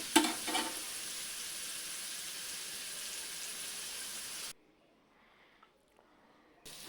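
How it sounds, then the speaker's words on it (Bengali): Loud, steady sizzling of chillies, onion and garlic frying in hot oil for about four seconds, then it drops to near silence with a few faint clicks. "তেলের মধ্যে আমি সব মরিচ, পেঁয়াজ, রসুন এগুলো ভেজে নেব"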